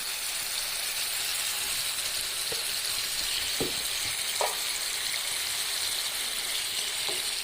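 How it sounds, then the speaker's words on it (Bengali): Tomatoes stir-fried with spices in oil for a Gulsha fish curry produce a loud, even, close sizzle, with a few light spoon taps against the pan. "এবার টমেটোগুলো কিছুক্ষণ নাড়াচাড়া করতে হবে।"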